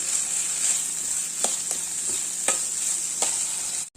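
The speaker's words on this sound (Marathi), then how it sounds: "परतून घेऊया आता हा सगळं आपण भाजून थंड करून" Roasted masala for a raw jackfruit curry being sautéed in a pan, a bright, steady sizzle with several scraping stir strokes, ending with a brief cutoff.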